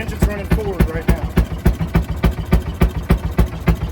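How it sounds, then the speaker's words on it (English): Fairmont M19 railway speeder engine running forward at an antique tractor show, a steady rhythmic chugging of regular low thumps with a mechanical clatter, close and fairly loud, with faint voices in the background. "Your engine's running forward right now."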